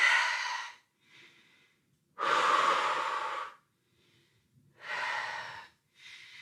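Deep, heavy breathing during a lower-body workout: three loud, drawn-out breaths with quieter, shorter breaths between them, close and in an uneven rhythm.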